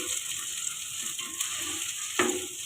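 Chickpeas frying in a pan with garlic ginger paste give a steady, soft sizzle with faint stirring scrapes, close and moderately quiet, with no talking.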